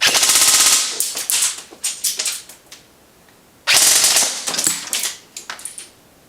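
Electric airsoft pistol running on an 11.1 volt or 7.4 volt LiPo battery fires two fast full-auto bursts of sharp rapid clacking shots, each about a second long, followed by scattered single clicks and short rattles.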